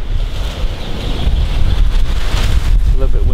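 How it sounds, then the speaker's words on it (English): Strong wind buffeting the microphone in a continuous low rumble and roar, fairly loud throughout. "A little bit windy out today."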